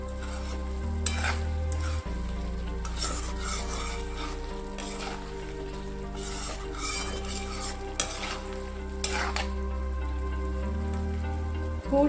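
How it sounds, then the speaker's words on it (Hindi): Chicken and spices cooking in a kadai over a low flame: a steady close sizzle mixed with repeated stirring and scraping of a metal utensil against the pan, with brief louder clanks, no talking. "अब लो फ्लेम पे लीड लगा के चिकन और मसालों को पकने देंगे।"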